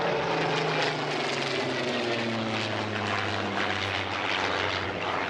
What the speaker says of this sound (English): 2 Griffin Spitfires coming in too.